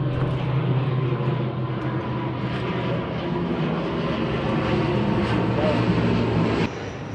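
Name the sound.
airplane flying past overhead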